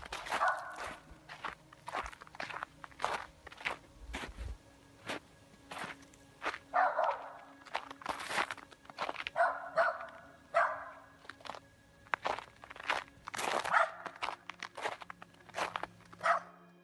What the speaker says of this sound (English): The dog does not stop barking.